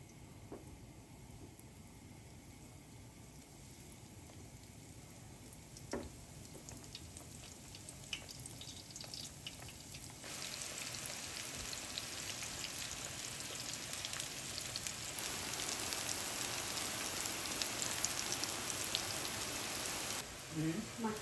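Vietnamese taro fries in a pan with a steady crackling sizzle that swells noticeably louder partway through and keeps going, while faint voices talk now and then.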